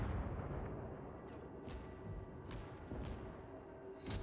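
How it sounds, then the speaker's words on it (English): Naval artillery in World of Warships booms out in several separate shots, sharp bursts spaced over a low, steady rumble of sea and engine. "bombard these ships as we go"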